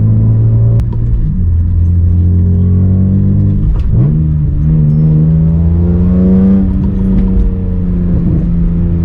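A BMW M235i engine revs hard while driving, a loud, deep droning note that rises, dips sharply around a shift, then climbs steadily again, heard close with a window open and no talking.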